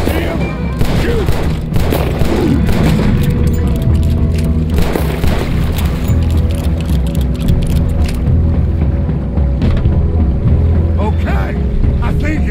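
Heavy gunfire in Red Dead Redemption 2 fills the whole stretch: rapid, dense volleys of shots and booming blasts, loud and close, running almost without pause.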